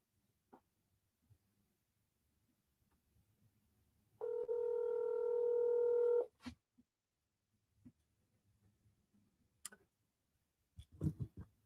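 A phone's dialing tones from an accidental pocket call: a steady two-tone beep holds for about two seconds, isolated and clear, with faint murmur and scattered knocks around it.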